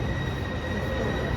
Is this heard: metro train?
yes